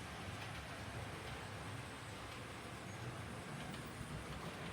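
Model steam trains run on a home railway layout with a steady, faint rumble and soft wheel clatter that holds constant throughout, with no voices.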